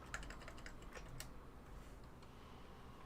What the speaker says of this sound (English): So here I am like typing it in.